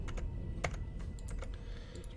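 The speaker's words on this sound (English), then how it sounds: "We're still using, as you can tell, a mouse and keyboard." Computer keyboard keys are tapped during Dark Souls 3 play in a quick, irregular run of light clicks, close and fairly quiet, with no talking.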